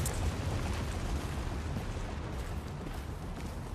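A grenade blast in the shooter game Tom Clancy's The Division, a broad rumbling boom that lingers as a dense roar of noise at moderate level throughout, with no talking heard.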